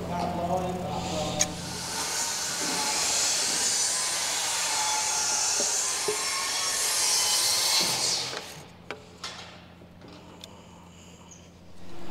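Steady broadband power-tool cutting of purlin housings into oak rafters for a timber-frame barn truss, running continuously for about eight seconds, then stopping and leaving a few light knocks and handling sounds.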